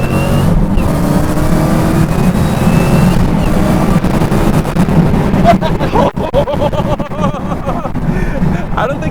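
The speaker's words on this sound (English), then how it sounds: "It says to press clutch and quickly apply full throttle." A roughly 1,000-horsepower Dodge Challenger Hellcat launched at full throttle, a loud sustained engine roar from inside the car with the note shifting and stuttering as traction breaks, while people talk.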